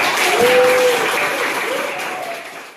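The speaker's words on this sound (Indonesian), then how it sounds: "jadi kasih aplaus buat kelompok" Applause from a classroom audience for a student group that has just finished presenting, a loud burst of many hands that peaks early and then slowly fades over a few seconds.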